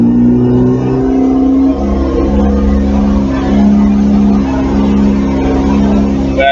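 Car engine held at steady high revs under load during a transmission stall test in drive, a loud continuous drone with strong low harmonics and no talk.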